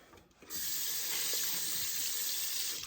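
Hot water gushes from a kitchen tap into a sink, starting abruptly and then running as a steady, close, hissing stream with no talk over it.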